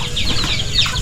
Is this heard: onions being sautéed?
no